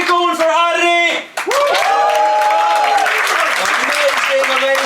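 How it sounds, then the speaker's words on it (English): Comedy show audience in Helsinki applauding and cheering for a performer, a loud continuous wash of clapping with whoops, briefly dipping before swelling again, while a comedian's voice talks over it. "Hey, keep it going for Harry"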